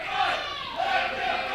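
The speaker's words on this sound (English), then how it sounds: "we hear this crowd that is itching for this. They say, let them fight." A wrestling crowd at an Anarchy Wrestling Fright Night event after a draw, chanting and shouting in a steady roar that swells twice, urging the fight to continue.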